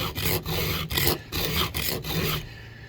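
A hand file rasps across a chainsaw chain's cutters, worn blunt from cutting, in about six steady strokes with brief pauses between them, close and fairly loud with no voices.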